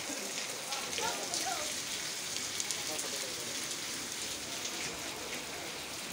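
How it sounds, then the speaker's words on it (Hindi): Heavy rain pours down steadily in Allahabad, a dense, even hiss of drops striking surfaces close by, with a faint voice now and then beneath it. "बहुत ही तेज बारिश हो रही है"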